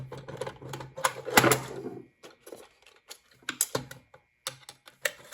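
Series of dry clicks and scrapes from a No. 2 Phillips screwdriver backing screws out of a Lionel Tropicana reefer's split frame, close and irregular, in bursts with short pauses.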